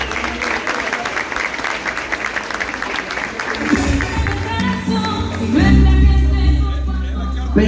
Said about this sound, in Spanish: Démosles un fuerte aplauso a ellos.